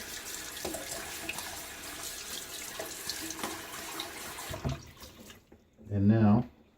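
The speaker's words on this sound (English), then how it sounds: "splash a little bit of water in my face" Running tap water with scattered splashing and dripping as water is splashed onto a face at a sink, then a short pause before a brief burst of talking.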